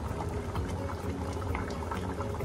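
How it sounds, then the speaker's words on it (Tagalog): Ginataang monggo, a coconut-milk mung bean soup, bubbling steadily in a pot on the stove, with a dense, even simmer that carries through without any pause and a faint hum of an exhaust fan underneath. "hayaan natin siyang kumulo"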